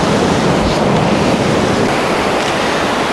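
Rushing water of a cold glacier-fed stream from the Khatling Glacier in the Uttarakhand mountains near Gangi village, a steady, loud, broadband roar filling the whole moment with no voices.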